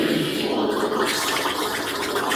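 A voice imitates a giant toilet flushing, producing a loud, continuous rushing, gargling whoosh that holds steady for a couple of seconds with no other talk.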